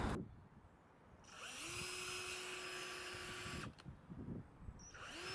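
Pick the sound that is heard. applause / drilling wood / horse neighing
drilling wood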